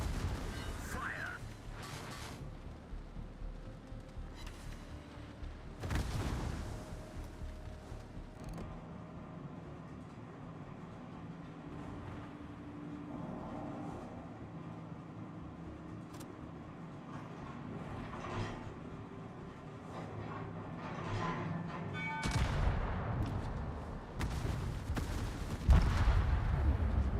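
Naval guns in World of Warships firing in a few heavy booming bursts, loudest near the start and again toward the end, over a low rumbling background with a player talking.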